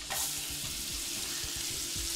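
Rough-chopped medium onion sizzles in butter in a pot for rice pilaf. A steady hiss runs under repeated scraping stirs of a utensil, close up and with no talk.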